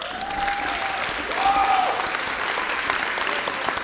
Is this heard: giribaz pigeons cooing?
no